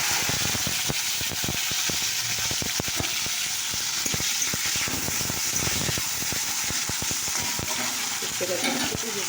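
Long strips of bitter gourd fry in hot oil, giving a steady, dense crackling sizzle with dense sputtering pops throughout and no voices.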